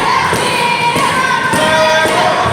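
A fired-up wrestling crowd roars continuously, with sharp rhythmic thumps and claps cutting through the cheering at regular intervals.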